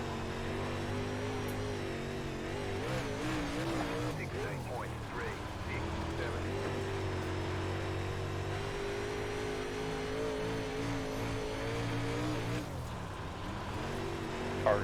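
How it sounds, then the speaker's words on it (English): A UMP Modified race car engine roars steadily in the iRacing dirt racing game at Lernerville, a constant loud drone with slight pitch shifts as the car runs over bumps, with a voice talking over it. "Car sounds"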